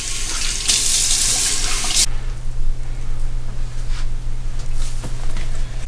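Hot water running from a bathroom tap into a sink during a shave, a bright close hiss of flow that cuts off abruptly, followed by faint drips over a low steady hum.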